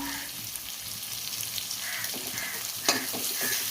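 Chopped onions and green chillies fry in a pan for fish puttu, giving a steady soft sizzle with a few stirring scrapes and one brief sharper crackle near the end.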